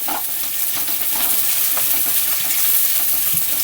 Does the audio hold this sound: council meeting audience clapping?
no